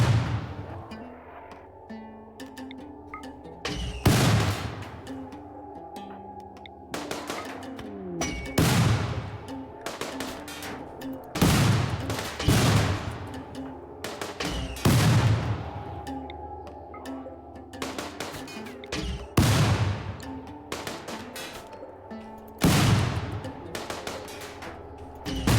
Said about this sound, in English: Christ, they shoot so friggin' fast.